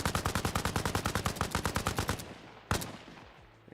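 A Liberator rifle in an ArmA: Reforger Helldivers mod fires a loud, rapid automatic burst of evenly spaced shots lasting about two seconds, then one more sharp shot rings out after a short pause and its tail fades.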